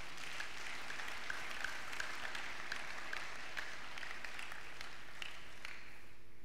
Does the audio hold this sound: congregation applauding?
yes